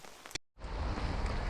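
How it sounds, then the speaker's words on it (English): Rain falls on a solo hammock camp, a steady wash of patter that breaks off briefly, then returns fuller and louder. "Oh, this rain is amazing, and I'm going to go to sleep in it."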